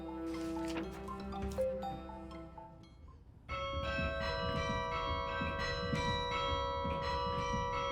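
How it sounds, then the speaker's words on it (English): Carillon church bells, played from a keyboard linked to dozens of bells high above a street, ring out a melody of overlapping, sustained resonant tones that fade before a fuller chord of bells strikes and rings on. "Now, high above the street, David Johnson will play music on church bells."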